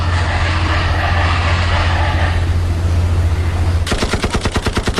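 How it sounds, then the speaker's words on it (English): A sound-effect rusty old car struggling to start, with a steady grinding rumble that breaks into fast, rhythmic chugging bursts near the end. It is loud and has no talk over it. "It sounds like a very rusty car trying to start."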